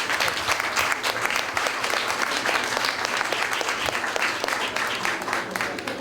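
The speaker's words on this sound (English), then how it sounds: "give her a round of applause for her gracious hospitality" An audience at a business show premiere party applauds their host, a dense, steady clapping from a crowd filling the whole stretch at even loudness.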